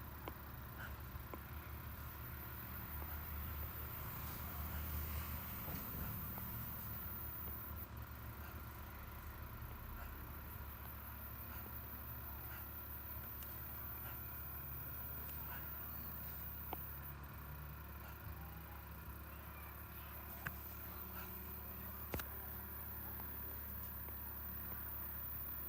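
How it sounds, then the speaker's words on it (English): A tractor engine runs outdoors with a steady, low idling rumble that holds unchanged for the whole stretch. It is moderately quiet and continuous, with no voices. "The tractor sound."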